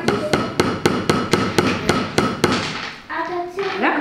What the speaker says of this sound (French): Je peux changer ma position de ma main sur le manche du marteau. Et je viens donner encore des à-coups.